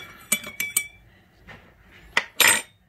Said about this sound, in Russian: Так, перемешиваем.